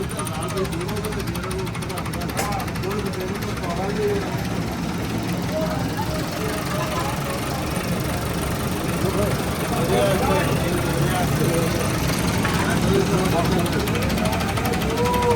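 A diesel engine runs on a test with a freshly rebuilt diesel pump, a steady rapid knocking chug that stays close and constant throughout, with a faint voice underneath.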